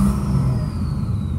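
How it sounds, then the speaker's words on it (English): A 2007 Ford F-350 dump bed work truck idling, its engine a steady low rumble with a faint whine, close and continuous with no voices. "But the motor sounds good."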